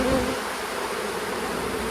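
Honey bees swarm around an open hive in a bee yard, a dense, continuous buzzing that stays loud and close throughout without pause.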